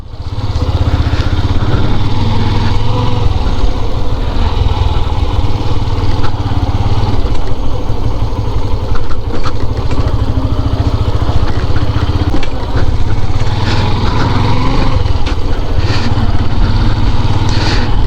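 A motorcycle engine drones loud and close for the whole stretch on a dirt road, a steady rough buzz with slight rises as it rides along, no talking.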